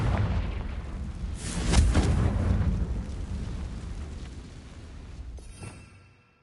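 A Confringo blasting spell explodes in Hogwarts Legacy with a loud booming blast and a rumbling tail, followed by a smaller burst before fading to near silence.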